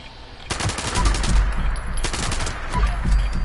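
Elder's Mark anti-armor rifle firing in Fallout 76, loud close bursts of rapid gunshots in two clusters, the first volley running about a second and a half, a short pause, then a second volley, with no talk.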